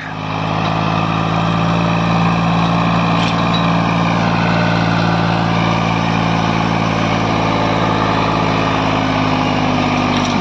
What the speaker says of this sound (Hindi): स्लिप मार गया ट्रैक्टर बिल्कुल ही चल नहीं रहा